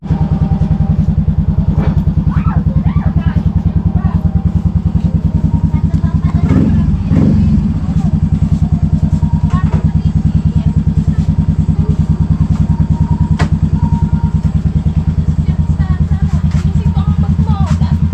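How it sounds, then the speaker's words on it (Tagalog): A motorcycle engine runs steadily at a loud, close idle with a rough, even rumble for the whole stretch, briefly rising around the middle, while it is taken out. "Okay, lalabas ko lang ang aking motor."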